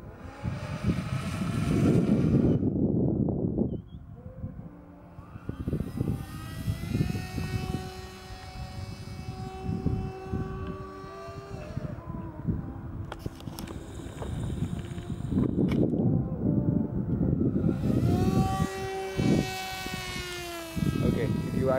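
An RC flying wing's electric motor whines and surges as it passes overhead, its pitch rising and falling with changing power, with wind noise and people talking throughout.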